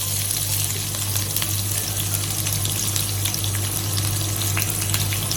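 Chopped shallots frying in hot oil with fenugreek seeds for a bitter gourd curry give a steady, close, even sizzle with a constant low hum underneath and light crackles throughout; nobody speaks.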